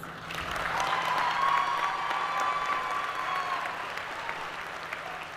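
Sustained audience applause fills a graduation ceremony hall, steady clapping from hundreds of people holding at an even level for several seconds without a break.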